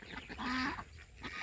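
Domestic geese kept at a home for sale let out one loud, nasal honk near the middle, followed by a fainter short call at the end.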